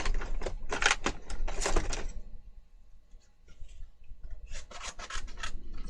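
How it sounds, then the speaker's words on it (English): Scissors snip and rasp through paper in a craft session, cutting out a piece with a small white border; bursts of close, crisp cutting come in runs, pause briefly, then resume. "I am going to cut this out with a little border"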